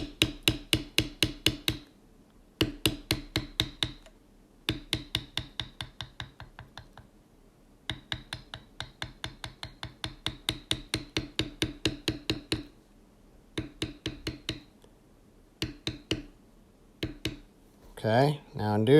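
Rapid, regular taps of a metal beveler struck by a mallet on leather while carving a bucking horse pattern, coming in close bursts of evenly spaced blows with short pauses between runs.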